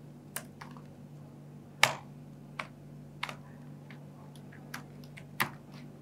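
Typing on a computer keyboard while entering a Docker command, sparse individual key clicks with irregular gaps over a low steady hum, fairly quiet and close.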